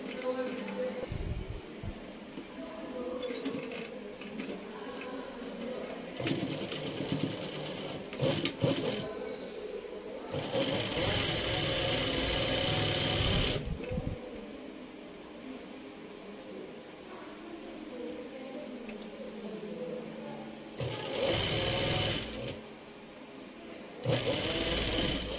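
A sewing machine stitches a summer dress in bursts of fast, steady mechanical whirring, with quieter pauses between runs and a few brief handling sounds.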